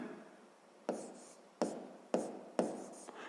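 Handwriting on paper or a board, noting a line in a grade 6 geometry exercise about perpendicular lines in a rectangle: four or five sharp, close scratchy strokes in a quiet room, each starting crisply and trailing off.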